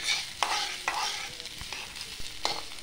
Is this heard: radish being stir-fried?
yes